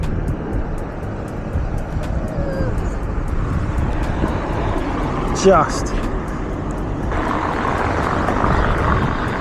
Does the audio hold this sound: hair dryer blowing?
no